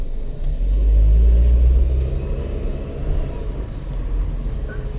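A 2007 Chrysler Sebring with a 2.4 L engine pulls away in first gear, a deep steady engine rumble that swells loud early and then settles into a lower hum, heard from inside the car with no talking.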